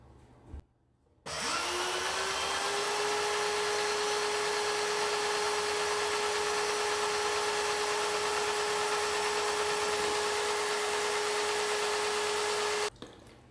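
A Graco GX21 battery-powered airless paint sprayer runs steadily at close range, a constant loud motor whine with a hissing spray texture that holds for over ten seconds after a short start-up.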